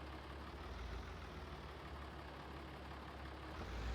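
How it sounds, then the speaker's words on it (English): A farm tractor engine runs steadily during planting-season setup, a low continuous rumble with a faint broadband hiss and no breaks, heard from a moderate distance. "We have a tractor."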